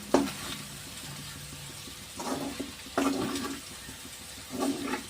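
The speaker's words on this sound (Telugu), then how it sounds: "ఇలా కలుపుతూ ఉండాలి" Chicken and kandanakaya fry in a pan while being stirred, with bursts of scraping and sizzling that come in several separate waves over a low continuous crackle.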